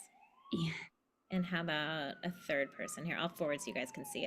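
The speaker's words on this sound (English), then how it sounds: "Sorry for the sirens of New York in the background." A faint wailing emergency siren drifts through the background on a New York street, a long gliding tone running under close conversational speech throughout.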